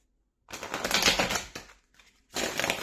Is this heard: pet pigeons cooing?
no